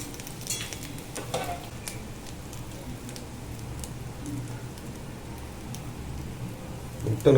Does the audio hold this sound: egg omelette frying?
yes